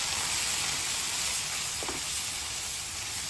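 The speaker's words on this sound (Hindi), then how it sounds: "इसको थोड़ी देर और भून लेंगे।" Vegetables and masala with turmeric, red chilli and garam masala fry for pav bhaji, giving off a steady, broad hiss that fills the whole stretch evenly. A faint brief tap sounds midway.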